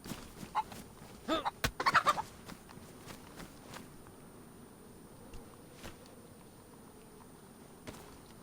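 Chicken in the DayZ video game on Xbox, a short burst of clucking and fowl calls around the two-second mark amid footsteps and faint outdoor ambience, then quiet game background.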